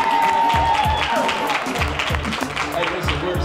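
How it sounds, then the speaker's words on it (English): A crowd claps and cheers at an outdoor community bike giveaway, a loud continuous wash of applause lasting a few seconds with voices mixed in. "Y'all give him a round of applause."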